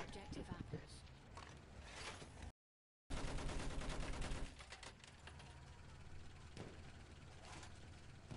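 Battlefield 1 combat brings bursts of rapid automatic gunfire and heavy shots, loud and cluttered, with a brief dropout partway and voices talking over the action.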